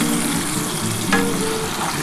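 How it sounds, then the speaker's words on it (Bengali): Chicken with spices fries and is stirred in a hot pan for a Bengali-style chicken kosha with potatoes, a dense, close sizzle with a brief scrape of the spatula partway through. "এবার ভালো করে এই চিকেনটা কষাতে হবে।"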